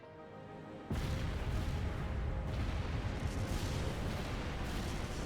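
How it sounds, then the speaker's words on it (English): A massive explosion in the video game Trails of Cold Steel IV, a sudden deep booming blast that erupts after a quiet moment and keeps roaring and rumbling loudly for several seconds. "So this barrier helped them survive the explosion."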